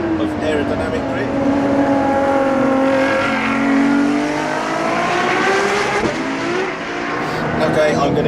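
Ferrari LaFerrari of over 950 bhp accelerating hard, its engine note rising and falling in loud sweeping revs through gear changes, with someone talking over it inside the cabin.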